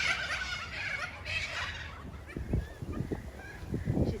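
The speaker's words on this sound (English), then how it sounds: "these cockies are noisy" Cockatoos squawking noisily outdoors, harsh overlapping calls, with geese nearby, grating cries in the first half giving way to scattered honks and calls.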